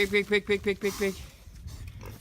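A pig grunts in a quick rhythmic run of about six close, nasal snorts, then falls quiet under faint rustling, on a farm.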